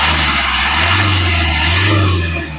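A 2018 Hyundai Creta E Plus engine running steadily with a low hum and a slight rise in pitch, close and fairly loud, easing off at the end.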